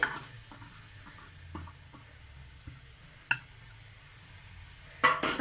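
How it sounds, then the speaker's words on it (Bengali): Grated coconut fries in a wok with a soft, steady sizzle, broken by a few light scrapes and taps of a stirring spoon against the pan and one sharper clank near the end. "আমি কড়াই বসিয়ে দিয়েছি, ওখানে আমি এই কুড়িয়ে নেওয়া নারকেলগুলো দিয়ে দিচ্ছি"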